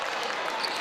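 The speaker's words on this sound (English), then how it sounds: "And get a little golf clap for Tyree." Light golf-clap applause from spectators at a high school basketball game, a brief, soft patter of scattered hand claps heard at a distance in the arena.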